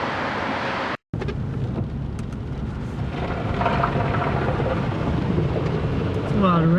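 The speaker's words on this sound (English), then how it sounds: "It's a lot of rain." Heavy rain pours during a severe St. Louis storm with a microburst and high winds. The downpour makes a steady, dense roar with a momentary dropout and gusty wind noise.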